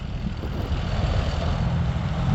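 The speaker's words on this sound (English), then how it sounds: "Another car coming in." A car rolling into a repair shop for a Honda or Acura V6 automatic transmission job, a steady loud engine and road rumble close by with no talk.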